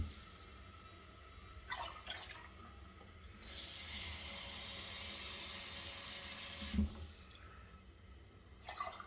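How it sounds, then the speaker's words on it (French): Cold water runs from a kitchen tap into a container, a faint steady hiss with a brief louder surge midway, under quiet room sound. "Mettre un peu d'eau froide dans le truc."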